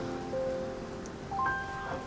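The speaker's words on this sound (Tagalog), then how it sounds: "Ay, ang lakas na naman ng ulan!" Heavy rain falls in a steady, even hiss that fills the whole clip, with faint sustained tones drifting over it.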